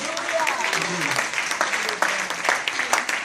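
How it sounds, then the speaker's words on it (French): An audience at a youth conference in a hotel hall applauds and cheers for Jesus Christ, with sustained, lively clapping and voices mixed in throughout. "Donc acclamons vraiment le Seigneur Jésus-Christ."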